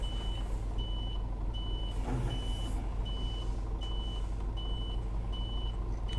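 A Scania S500 truck with a six-cylinder engine in Euro Truck Simulator 2 gives a low, steady engine rumble. Regular reversing beeps repeat over it, and a brief hiss or thud breaks in partway. Moderately quiet, with no speech.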